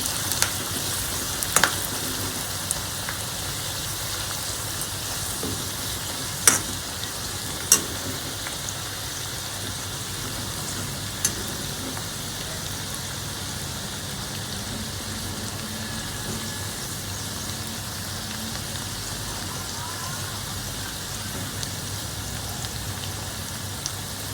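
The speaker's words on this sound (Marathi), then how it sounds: "थोडा कलर चेंज होईपर्यंत कांद्याला थोडंसं परतून घ्या." Sliced onions sautéing in a pan over low gas, a soft, even sizzling hiss throughout with a few sharp clicks from a spatula or pan here and there.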